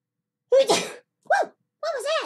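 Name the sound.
sneeze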